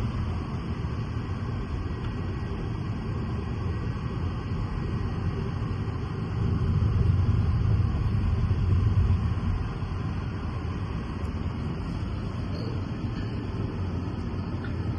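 A car cruising along a highway in the USA, a steady low road rumble and engine drone heard from inside, swelling slightly midway, with no talking.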